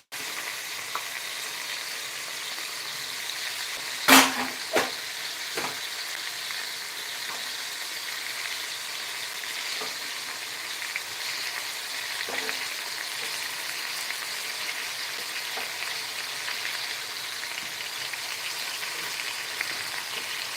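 A pan of tomato pieces and onion masala paste fries with a continuous soft sizzle for about twenty seconds, broken by a sharp clink of a utensil near the start and a few faint stirring scrapes.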